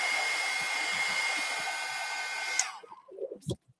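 A hair dryer blows steadily on wet paint for about two and a half seconds, a loud close whirring rush, then switches off and leaves a few soft handling clicks.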